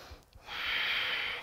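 Strong, forceful breath through the nose during a yoga lizard pose, a brief soft intake followed by a long steady airy exhale lasting about a second, close and alone.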